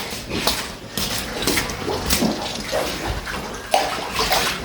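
Water being poured and splashing into a container for pigs after their feed, uneven gurgling with a few clinks.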